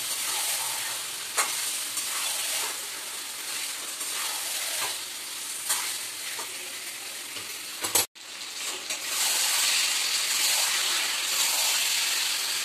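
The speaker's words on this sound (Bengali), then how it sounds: "এইবার ভীষণ ভালো করে নাড়তে হবে" Curry with onion and tomato stirred and fried in a pan makes a loud, steady sizzle with periodic spoon scrapes, a brief cut partway through, then continued hissing.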